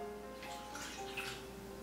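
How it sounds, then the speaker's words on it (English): Hot water pours steadily into an oven tray set up for roasting chicken, a soft, continuous rush of splashing liquid heard alone without speech. "I'm going to fill up with hot water."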